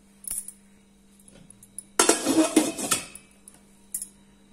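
A clay pot set down on a stove while cooking kulambu, a short loud clatter of pottery and metal, with a few lighter clinks before and after in a quiet kitchen.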